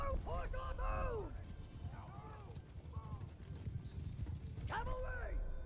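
Cavalry horses galloping through a Mount & Blade II: Bannerlord battle, rapid clip-clop hoofbeats running continuously beneath loud shouted commands.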